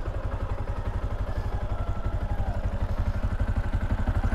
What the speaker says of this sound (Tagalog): Ayan ang tunog ng kadena natin.